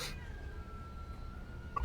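A stray cat meows, quiet and somewhat distant, with a brief sharper cry near the end over low background rumble.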